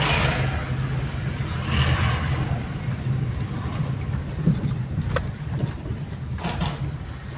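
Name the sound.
state transport bus driving past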